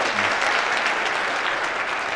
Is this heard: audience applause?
yes